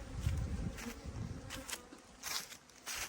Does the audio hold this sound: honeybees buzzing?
yes